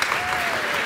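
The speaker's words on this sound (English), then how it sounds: "Can I have a quick round of applause, please?" A brief burst of audience applause at a Python developer conference lightning talk session, a dense, even patter of many hands clapping close together for under a second.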